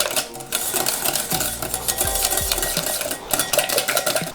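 Kefir is whisked into a bowl of donut batter, a steady run of fast scraping and clinking strokes with a few heavier knocks, close and fairly loud, with no voices.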